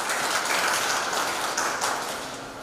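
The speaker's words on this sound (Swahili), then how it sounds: "Tujipigie makofi." Applause from an audience at a regional government meeting in Mara, Tanzania, a broad wash of steady clapping that stays full and fairly loud before gradually thinning and fading toward the end, with no talk over it.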